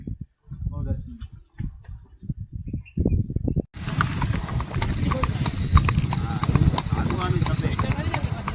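A mare's hooves clip-clop in a quick, uneven rhythm, close and loud, shifting from sparse steps to a dense continuous trot, with voices talking over the sound.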